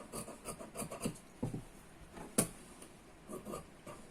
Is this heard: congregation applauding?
no